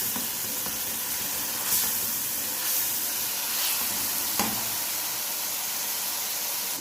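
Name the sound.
frying garlic, cumin and black pepper in a pan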